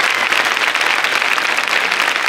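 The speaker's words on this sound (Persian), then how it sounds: "تشویق کنید خواهش میکنم" Studio audience on the Iranian TV comedy show Khandevaneh breaks into dense, steady applause, a loud, continuous wash of clapping from many hands that holds level throughout without a break.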